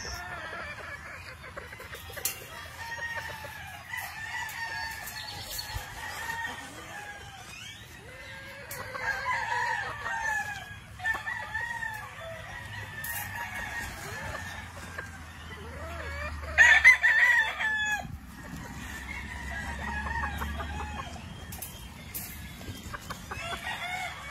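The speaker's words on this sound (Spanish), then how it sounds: "Ok, Benny, pues ahí están las aves" Roosters crow and hens cluck continuously at a poultry show of black fowl, several birds calling over one another at close range, with one louder burst partway through and faint talk now and then.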